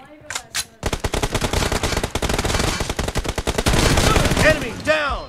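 Gunfire in the video game PUBG Mobile during a team deathmatch, a couple of single shots followed by long, loud, close automatic bursts of rapid cracks, ending in scattered pings.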